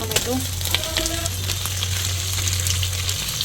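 Food frying in cooking oil in a pan for a mixed vegetable and fish dish, a loud continuous sizzle with bright crackling and a low steady hum underneath, close up and without speech.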